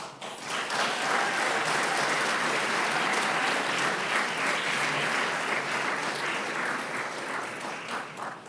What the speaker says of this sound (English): You can keep that applause coming as he makes that long walk to the front of the building